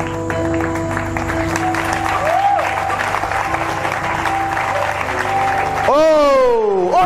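A church congregation applauds with sustained, dense clapping filling the room, while a voice keeps talking over it and organ or keyboard tones swell and slide near the end.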